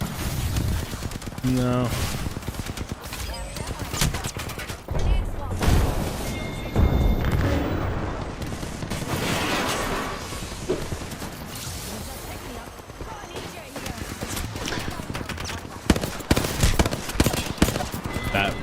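Gunfire in Apex Legends, rapid bursts of shots and sustained automatic fire crackling throughout a busy fight, with a voice talking over parts of it.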